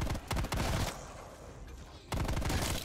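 Automatic gunfire rattles in loud rapid bursts in a video game, stops for about a second of quieter ambience, then resumes in another close burst.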